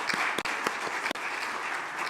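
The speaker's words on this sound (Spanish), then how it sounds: "Para nuestros panelistas, un fuerte aplauso" An audience at an urban development panel event applauds in a loud, dense, continuous wash with individual claps standing out.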